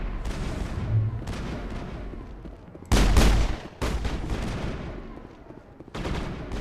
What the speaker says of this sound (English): Are we still shooting that guy?